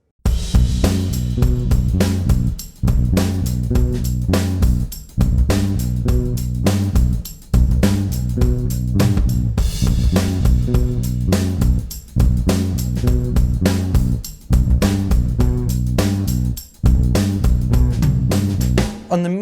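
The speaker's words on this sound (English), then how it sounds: "For this example I've switched to the chorus effect." A bass guitar repeats a steady riff through an EBS UniChorus set to a fast, shallow chorus, gently wavering and shimmering, loud and rhythmic with short gaps between phrases.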